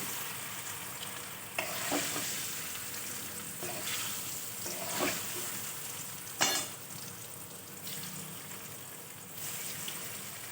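Small cubes of homemade paneer fry in a pan with a steady close sizzle, broken by occasional louder scraping stirs and clinks.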